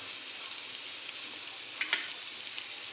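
Ginger garlic paste and curry leaves fry in hot oil as a tempering for spicy dal khichdi, giving a steady, fairly quiet close hiss with a couple of small crackling pops.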